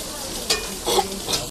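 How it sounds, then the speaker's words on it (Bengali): Crab pieces fry with spices in a pan, giving a continuous sizzle with a few sharper scraping stirs and a brief clack near the end, close and fairly loud, without speech. "কাঁকড়াটা ডাইরেক্ট ভেজে দিচ্ছে,"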